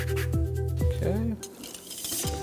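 A small whisk beats a sauce of garlic, tomato, lemon zest and oil in a bowl, giving short close stirring scrapes and light metallic clinks over about two seconds.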